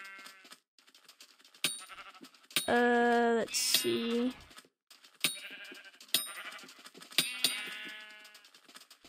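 Sheep bleating in Minecraft, two clear loud bleats in the middle among clicking game sounds, with a brief spoken remark.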